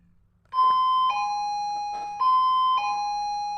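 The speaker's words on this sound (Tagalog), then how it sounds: "Ala, may nag-doorbell." Doorbell chiming two ding-dong rings in a row, clear and bright, each tone ringing out over a quiet room with no talking.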